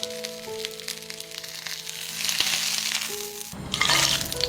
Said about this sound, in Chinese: 锅里的猪油不要浪费，把青椒和鸡蛋煎出虎皮